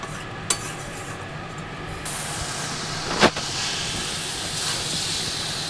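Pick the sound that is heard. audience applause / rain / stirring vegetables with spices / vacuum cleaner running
stirring vegetables with spices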